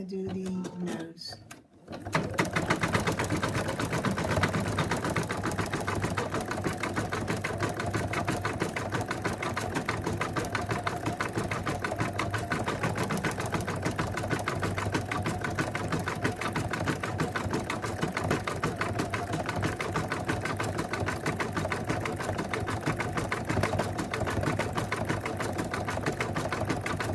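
A home embroidery machine stitches the nose of a cat design, its needle running in a fast, steady, mechanical rattle that keeps going without a break after a brief pause near the start.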